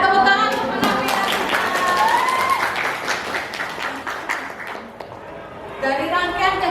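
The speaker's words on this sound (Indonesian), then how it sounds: "tepuk tangan untuk Navia." Classroom applause during a finance lesson, loud group clapping that fills the first few seconds and then thins out, with people talking over and after it.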